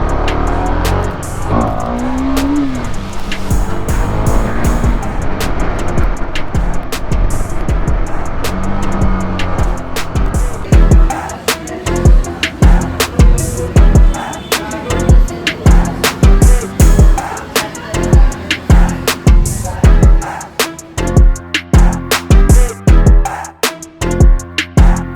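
A KTM Duke 390 motorcycle with 43,400 kilometers on it accelerates hard in first gear for a power wheelie. The engine note rises in loud, close revving surges, then breaks into choppy bursts as the throttle is blipped and rolled.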